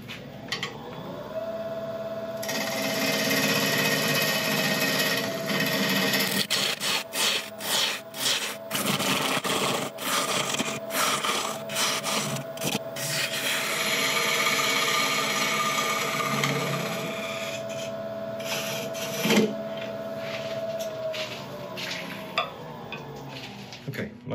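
A lathe spins a cherry wood blank as a tool cuts a tenon, giving a steady motor hum under rhythmic scraping and rubbing that comes in repeated bursts.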